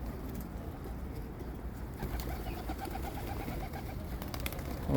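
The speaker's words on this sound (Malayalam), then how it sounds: "പ്രാവാണ് ഇതൊക്കെ" Several pigeons coo in soft, repeated rhythmic phrases at a moderate distance outdoors, over a low background hum, with no one talking.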